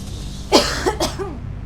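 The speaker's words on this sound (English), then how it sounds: "Just coughing bouts." A few sharp coughs in quick succession from a character in the video game The Fall, close and fairly loud, followed by a softer throaty rasp, with no talking.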